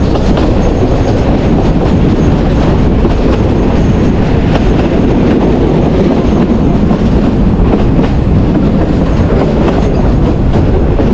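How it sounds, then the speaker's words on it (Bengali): A local train pulls in to stop at Adamdighi station, the carriages rumbling loudly with clattering wheels and faint squeals in a continuous, close roar. "আদমদিঘি স্টেশনে এখন ট্রেন দাঁড়াবে।"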